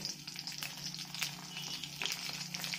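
Slit green chillies and black cumin seeds fry in hot oil, giving a steady, dense crackling sizzle close up that runs the whole time, with a few louder pops and spits along the way.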